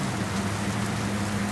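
Steady rain falling all around, a dense, even hiss of drops on surfaces with a faint low hum underneath, continuous and unbroken, with no voices.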